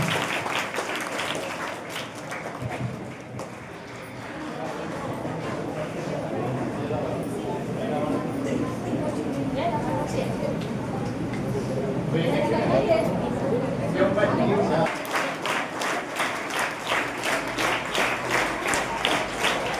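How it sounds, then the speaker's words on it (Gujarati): Continuous applause welcoming a small child at a school admission festival, a crowd clapping steadily throughout with chatter mixed in, growing denser and more rhythmic toward the end. "ફરી એકવાર નાના ભૂલકાને આપણે તાળીઓથી વધાવીએ"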